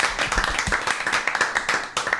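An audience claps at a steady, rapid rhythm for a couple of seconds, moderately loud and without cheering.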